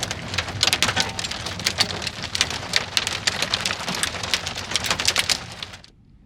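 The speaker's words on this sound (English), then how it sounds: "Ooh, there's hail." Hail and heavy rain pound on a truck in a dense, steady roar of close drumming impacts, with sharper hard hits scattered throughout, before the sound cuts off abruptly near the end.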